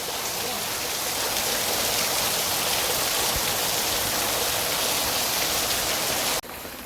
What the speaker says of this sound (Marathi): पाऊस काय थांबायचं नाव घेत नाही